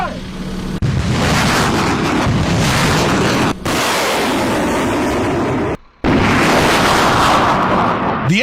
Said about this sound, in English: This is America's high-mobility artillery rocket system, HIMARS.